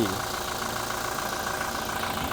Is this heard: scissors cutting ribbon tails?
no